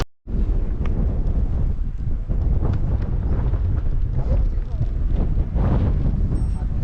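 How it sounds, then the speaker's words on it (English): Strong wind roaring across the microphone while cycling fast downhill on a touring bike with full camping gear, a loud, steady buffeting rush that never lets up. "Look at this for a descent. and the wind on us back as well."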